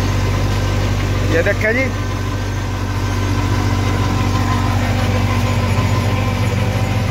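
A tractor engine pulling a tilling implement through a sugarcane field drones loudly and steadily up close, with brief speech heard over it.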